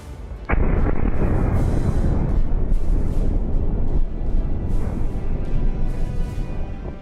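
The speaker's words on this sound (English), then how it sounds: "a massive explosion was seen, which caused debris and the APC turret to fly into the air for several meters" A loud sudden blast as an armoured personnel carrier is struck by an FPV drone, an abrupt sharp onset followed by a long rumbling, crackling roar that slowly fades, with no voices.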